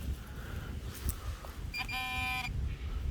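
A metal detector sounds over a gold coin at an 1860s school site, a short steady electronic tone lasting about three-quarters of a second, heard over low outdoor rumble.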